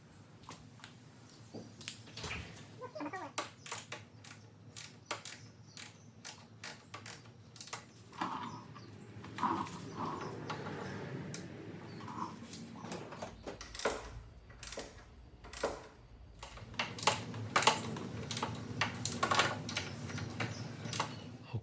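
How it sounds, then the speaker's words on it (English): A torque wrench tightens the stabilizer bolts on a Raptor 700 ATV, making a string of scattered sharp clicks and ratcheting ticks amid workshop handling noises over about twenty seconds, fairly quiet and close. "it's time to torque the back bolts to 25 foot-pound and the front bolt to 20 foot-pound"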